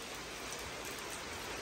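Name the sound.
heavy rain falling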